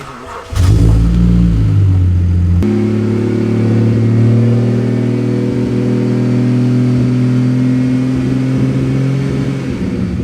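A BMW N54 engine starts up, revs and then settles into a loud, rough hum, running close and alone for about ten seconds.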